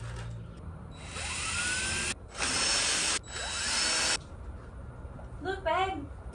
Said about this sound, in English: But I'm still gonna put my screws in it just to be sure that she stays put.